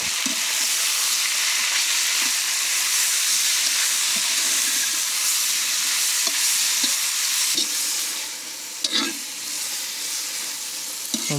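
Meat browns and fries in a pot at an outdoor fair, a dense continuous sizzle with steady hiss and occasional stirring scrapes, loud and close throughout.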